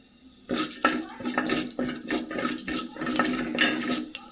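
Fenugreek seeds hit hot oil in a pan where taro root is frying for a tangy tamarind curry, giving a close, steady crackling sizzle with pops and bursts that rise and fall over a few seconds.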